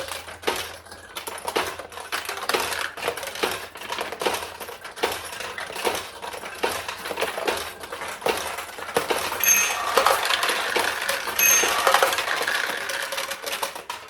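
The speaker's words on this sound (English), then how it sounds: "it doesn't make as much noise banging off the ring bells" On a restored 1975 Nishijin Model A pachinko machine, steel balls clatter and rattle continuously, with bright metallic rings from the bells scattered through it, fairly close and busy, with no voices.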